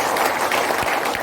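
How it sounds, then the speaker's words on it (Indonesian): Audience applause at a motivational seminar in Surabaya, a dense, steady wash of many hands clapping at fairly even loudness for about a second, with no voices breaking through. "Boleh tepuk tangan lebih meriah lagi."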